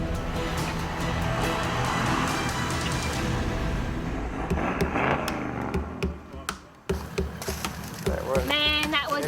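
A vehicle towing a camper trailer drives steadily under loud, continuous engine and road noise, with a brief dip before the engine surges again; people talk over it throughout.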